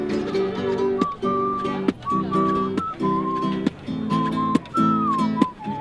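A person whistles a bright, wavering melody over steady music at an outdoor gathering in Leipzig, the tune rising and falling in short phrases that recur across the passage.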